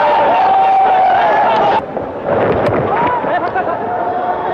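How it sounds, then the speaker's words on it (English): Crowd cheering at a Bangladesh vs UAE T20 cricket match, a loud, dense roar that dips briefly partway through, then swells again and carries on steadily. "Look at that cheer."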